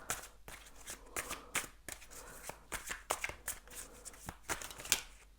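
Tarot cards are shuffled by hand in quick, crisp riffling bursts, a busy, close rhythm of papery slaps continuing throughout with no talking.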